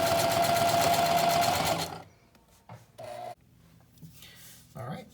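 A domestic sewing machine stitches two short lines across the pockets of a handmade 18th-century hussif sewing kit, a loud steady rapid run for about two seconds, then quiet handling clicks and brief short bursts of stitching.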